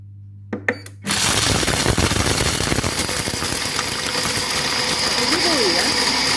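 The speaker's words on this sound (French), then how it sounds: "J'ai fermé mon bol et je vais mettre 15 secondes à vitesse 10." Compact Cook Pro food processor grinding sugar at top speed 10, a loud continuous whirring roar that starts abruptly after a couple of soft clicks and runs steadily to the end.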